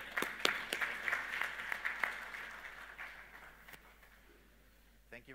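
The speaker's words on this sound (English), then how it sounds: "Round of applause, please." Applause from a conference keynote audience at an SAP Innovation Summit in 2018 welcoming a speaker to the stage, a burst of crisp individual claps that thins and fades toward the end, with some speech under it.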